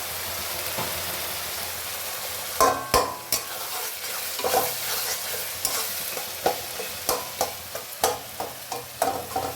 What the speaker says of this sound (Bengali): কাছ থেকে দেখো মশলাটা কষছে না।